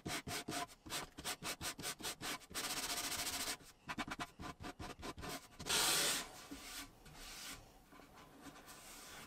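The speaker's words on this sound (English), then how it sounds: "I followed that up with some hand sanding to refine the edges and get everything flush" Hand sanding along the edges of pine shelves on a mid-century ladder-style shelving unit: rapid rhythmic back-and-forth rubbing strokes, close and loud, with a longer steady scrub partway through and no talking.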